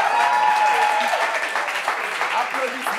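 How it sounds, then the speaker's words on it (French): A live audience claps together at a French gathering, a dense continuous patter of applause filling the space for a few seconds, with voices and cheers mixed in underneath. "Applaudissements pour elle, s'il vous plaît."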